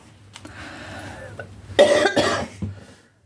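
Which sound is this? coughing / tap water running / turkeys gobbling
coughing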